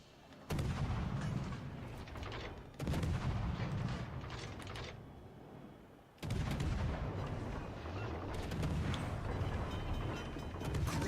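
Naval guns firing in World of Warships: Legends, three heavy booming salvos, each followed by a long rumbling roll that lingers for seconds, loud and close with little talk.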